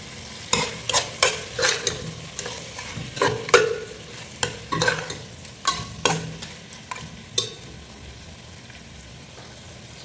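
Chopped tomatoes fry and get stirred in a pan for a hotel-style beef gravy, with a series of scraping stir strokes over a steady sizzle that fades toward the end.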